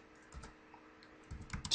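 Typing a URL on a computer keyboard with a few soft key clicks, then a quick burst of keystrokes ending in a press of the enter key. The sounds are quiet and close, with no talking.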